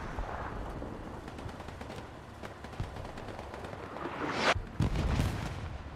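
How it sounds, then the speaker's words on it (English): Artillery fire during a competitive Hell Let Loose match on the Mortain map, heard as a dense run of sharp shots and rumbling booms, with a louder burst of blasts near the end, all moderately distant. "for some reason I don't know whose artillery that is"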